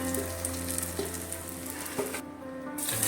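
Fried fish being lifted out of hot oil while cooking fish biryani, a steady close sizzle and frying hiss running throughout with a few soft clinks from a scoop.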